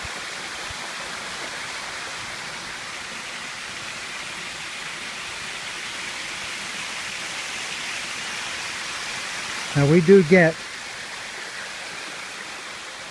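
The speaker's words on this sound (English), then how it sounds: "we get a tremendous amount of water that comes over here" Creek water flows over a low bridge in the Philippines, making a continuous broadband rushing and hissing that holds steady throughout, with a brief spoken word near the end.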